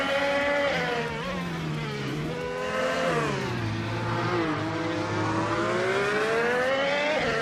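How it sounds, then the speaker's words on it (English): A Honda IndyCar racing engine in a racing video game on the Yas Marina track screams loud and continuous, its pitch sliding up and down through gear changes and throttle shifts, with no voices over it. "New Life is running 2nd in the race with a Honda IndyCar."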